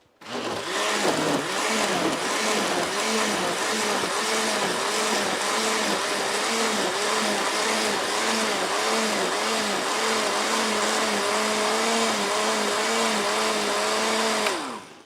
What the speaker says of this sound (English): Okay, I'm starting the blender again.